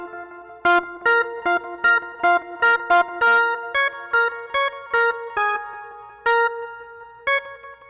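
A Lowrey organ plays a short melody of distinct chords on its echo-effect bank preset, each note clear and close with a repeating echo trailing behind it, in a steady rhythm and with no talking.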